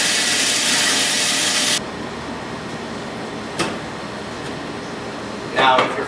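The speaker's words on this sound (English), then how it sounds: "They go right to the food processor. And we're just going to pulverize." A food processor pulverizes ingredients for buttered rum truffles: a loud, close motor whir lasts about two seconds, then cuts off to quiet room sound with a few soft knocks.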